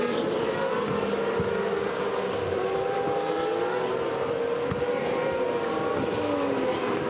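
A GP2 race car at the 2014 Austrian round qualifying sweeps through the final corner, its high engine whine gliding up and down in pitch as it passes, set against a constant trackside roar.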